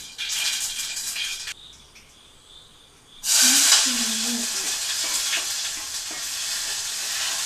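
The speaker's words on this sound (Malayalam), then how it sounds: "ഈ കടുക് പൊട്ടിക്കഴിയുമ്പോൾ നമുക്ക് ഈ ചെറിയുള്ളി ഇതിലേക്ക് ചേർത്ത് വെക്കാം" Mustard seeds and small shallots fry in hot oil for kovakka mezhukkupuratti, a bright crackling sizzle that breaks off briefly, then surges back loud and steady with stirring.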